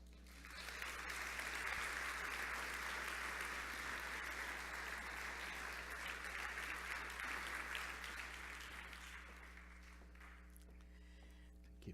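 Audience applauding at the close of a presentation at a TTRA 2017 tourism marketing conference, steady sustained clapping from a large crowd that fills the room, slowly thinning out toward the end over a faint constant hum.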